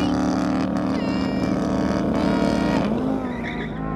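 McLaren 570S and Audi R8 sports cars racing, engines roaring close and loud with rising and shifting revs, a tire squeal near the end.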